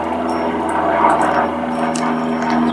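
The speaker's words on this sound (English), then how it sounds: "Sorry about the airplane." An airplane flies overhead, a steady broad roar that holds at the same loudness for the whole stretch, with no talking over it.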